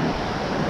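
Ocean surf on a beach in Maine makes a loud, steady wash of broadband noise, with wind buffeting the microphone and no voices heard.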